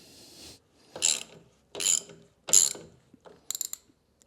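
Farm machinery belts being tightened, with four or five short bursts of ratcheting and clicking separated by quiet pauses, close and fairly loud.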